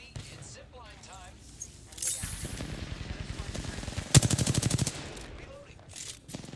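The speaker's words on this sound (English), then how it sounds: "The enemies are shooting at me." Enemy gunfire in the battle royale game Apex Legends comes as a rapid automatic burst of loud, evenly spaced shots, following scattered game effects and a softer rattle.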